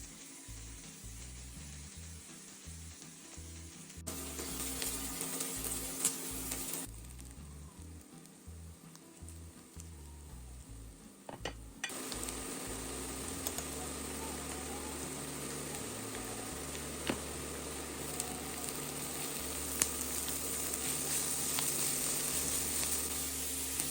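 Onions and carrots fry in a pan with a steady, close sizzle and crackle that shifts in level as the pan is stirred, continuing unbroken with no voices.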